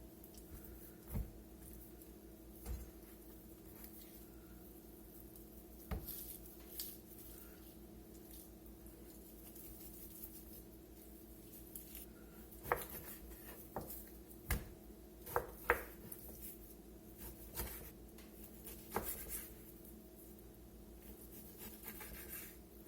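Beef chuck is cut into 1-inch cubes along its natural seams, giving sparse, soft knife taps and squishing cuts on a board at close range over a quiet background hum, irregular and spaced apart, with no talk.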